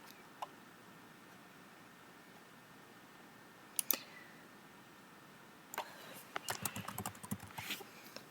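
Quick bursts of clicking keys on a computer keyboard sound faint against a quiet room hiss. A few isolated taps come first, then a steadier run of typing near the end.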